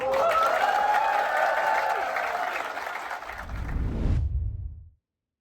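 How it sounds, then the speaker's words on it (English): Passengers applauding aboard the Viking Star cruise ship on a Mediterranean and Adriatic voyage, a full, steady round of clapping that swells slightly before cutting off abruptly. "Next round of applause that you hear is going to be from us to you."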